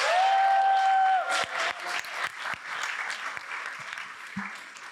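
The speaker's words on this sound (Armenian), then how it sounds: "բարձր ու բուրըն ծափարություններ են հարկավոր մեզ" An audience applauds at a political speech event, a dense wash of clapping that starts strong, thins into scattered claps, and fades out, with a brief tone heard near the start.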